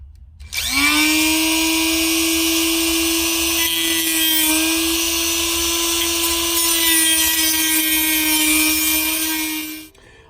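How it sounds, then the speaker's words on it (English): A Dremel rotary tool cuts a circle into a plastic panel of a Fiat 500 Abarth, a loud, steady high-pitched whine starting abruptly and running about nine seconds before spinning down, close and alone. "I'm going to take the Dremel and I'm going to cut, kind of make a circle all the way around"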